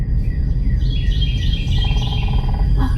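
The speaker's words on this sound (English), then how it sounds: "Oh, there's a woodpecker." Red-cockaded woodpecker calling in open woodland, a series of high chirpy calls over steady low background rumble, fairly near, no talk.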